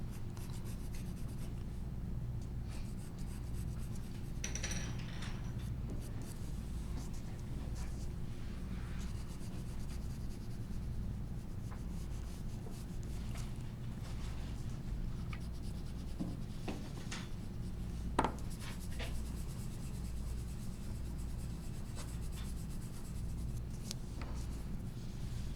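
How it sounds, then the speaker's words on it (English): Pencil drawing the stem inside a glass bottle on paper, a faint steady scratching and rubbing that runs continuously and quietly, close to the page, with no talking. "I'll draw the stem that's sitting inside the bottle."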